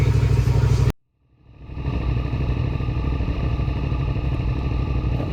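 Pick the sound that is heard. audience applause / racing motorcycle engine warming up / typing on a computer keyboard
racing motorcycle engine warming up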